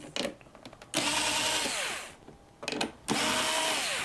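Electric screwdriver whirring in bursts as it backs out computer backplate screws, loud short runs of motor noise separated by brief pauses, close and alone.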